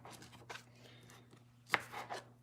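Knife chopping vegetables for a chicken pot pie on a board, a few sharp, separate knocks spaced irregularly over a steady low kitchen hum, with one louder crisp strike near the end.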